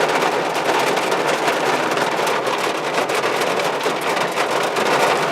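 Hail pelting down on an outdoor work site being dug for concrete pads, a dense, steady, close clatter of pellets hitting surfaces with no voices, unbroken throughout.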